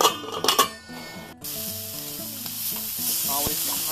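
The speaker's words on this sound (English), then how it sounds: "brown the sausage." Breakfast sausage browning in a pan for a Johnny Marzetti casserole, a steady close sizzle and crackle with brief spatters early on, running alone without talk.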